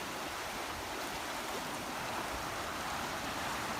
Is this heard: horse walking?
no